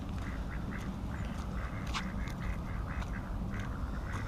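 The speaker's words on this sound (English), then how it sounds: "That's a duck." A duck at a park quacks repeatedly in short, evenly spaced calls through the whole stretch, fairly close and clear over steady outdoor background noise.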